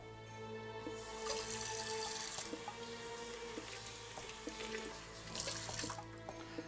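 Water running from a kitchen tap into a sink while thinning dosa batter, a faint steady splashing flow in two bursts with quieter dripping and clinks between them.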